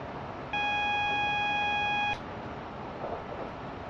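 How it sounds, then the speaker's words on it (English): Warning alarm in a Class 75 train cab in Train Simulator Classic, a steady high electronic beep held for about a second and a half over a low rumble of cab noise, then cutting off. "Right, that is the alarm for the 75."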